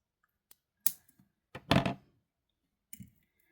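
Flush cutters snip jewelry beading wire beside a crimp tube while a beaded piece is finished, giving a few sharp, close clicks and snaps spread across a quiet stretch.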